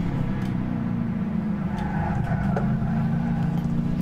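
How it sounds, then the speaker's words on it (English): A car in the Gran Turismo 6 racing game holds a steady engine drone while its tires spin, a continuous loud hum with faint squeal and light clicks layered on top. "Spin the tires a little bit"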